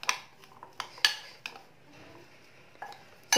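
A spoon clinks and scrapes against a bowl while cheese and vegetable stuffing is stirred, giving sharp, irregular metallic taps spaced apart over a quiet background.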